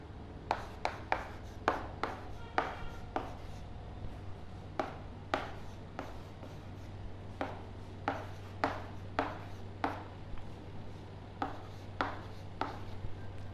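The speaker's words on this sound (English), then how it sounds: "So I am going to write some numbers here." Chalk or marker strokes on a classroom board as a teacher writes numbers, a series of sharp, separate taps and short scrapes in irregular bursts, close and clear over a low steady hum.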